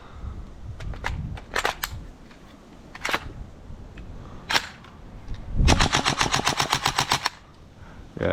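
A GHK AKM airsoft rifle fires through the rest of its magazine while underpowered and failing to cycle properly: scattered single sharp cracks first, then one close, loud rapid burst of about a dozen evenly spaced shots.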